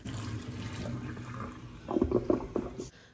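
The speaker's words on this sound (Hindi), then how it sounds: "सबसे पहले आपने उस ड्रेन में ये गर्म खौलता हुआ पानी डाल देना है" Hot boiling water is poured into a blocked kitchen sink drain, giving a splashing, gurgling pour that builds after a quieter start and then stops abruptly. It is close and loud, with no talking.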